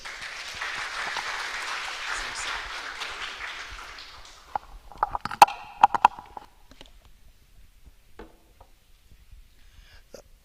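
Audience applause at an AI in higher education summit at Egerton University: dense, steady clapping for about four seconds, then fading into scattered claps and a few isolated thumps before near silence.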